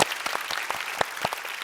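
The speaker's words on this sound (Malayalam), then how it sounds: "അതുകൊണ്ട് റഹ്മാൻക വലിയൊരു കയ്യടി." An audience claps in a live TV show studio, a brisk, loose run of individual hand claps that sounds fairly close and keeps going steadily throughout.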